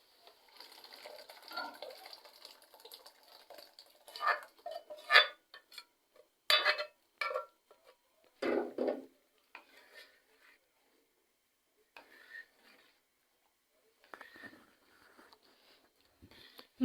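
A spoon scrapes and knocks in a cooking pot as lentils are stirred into cooked spices, in scattered short strokes with quiet gaps between, fairly faint and close.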